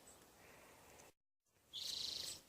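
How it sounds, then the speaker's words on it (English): Birds sing in a forest on Vancouver Island, with faint calls over a quiet background, a brief dead gap, then a louder, buzzy trilling chirp nearby. "Listen to all the birds."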